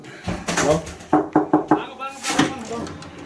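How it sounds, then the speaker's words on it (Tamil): Four quick, sharp knocks land on a room door in asylum-seeker housing in Germany, with people talking just before and after. "இதுதான் பிரேம் இருக்கிற அரை நம்பர் தொண்ணூற்றி ஒன்று தட்டுங்கால"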